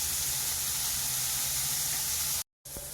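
Raw garlic and onion fry in a pan, giving a steady, close hiss of sizzling oil that cuts off briefly near the end before resuming quietly.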